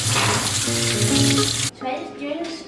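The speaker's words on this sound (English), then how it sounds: "We gotta wash our hands." Tap water runs steadily into a kitchen sink while hands are washed, a close, loud rush that cuts off abruptly partway through, leaving faint dripping and light movement.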